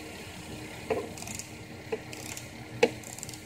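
A headlight adjustment screw on a Volvo XC90 with bi-xenon HID headlights is turned counterclockwise, giving about three sharp ratcheting clicks roughly a second apart, close and fairly quiet.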